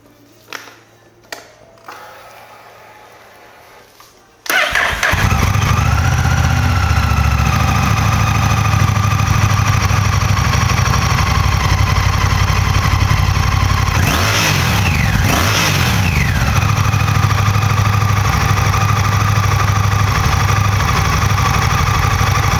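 A Honda Rebel 1100 cruiser motorcycle engine starts abruptly and settles into a loud, deep, throbbing idle, with a couple of quick throttle blips partway through.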